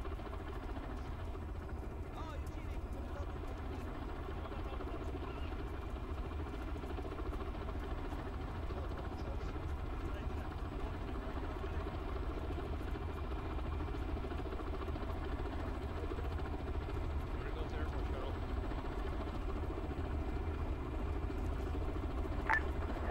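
A CH-53 helicopter in a video game drones with a steady, low engine and rotor hum that holds at an even level throughout.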